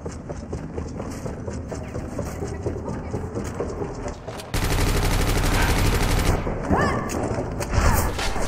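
Rapid automatic gunfire rattles through a shooting video game, with bursts of dense shots under faint talk, jumping to a louder, harsher stretch of continuous firing midway before easing slightly.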